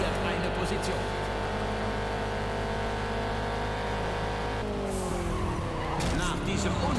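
Car crash in the racing video game Juiced 2: sustained engine drone and tire skid through the whole stretch, then a harsh burst of impact noise and scraping near the end, loud and close.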